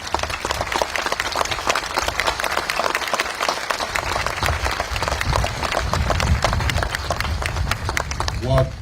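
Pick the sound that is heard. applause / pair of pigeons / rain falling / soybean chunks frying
applause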